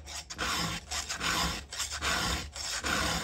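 A file sharpening a chainsaw chain with a file guide gives about six rasping strokes in a steady rhythm, each a close, gritty scrape separated by short gaps.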